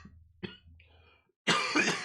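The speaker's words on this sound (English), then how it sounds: "thank you for your patience with my cough" A man coughs and clears his throat in short harsh bursts, first faint and spaced, then a louder raspy fit at close range.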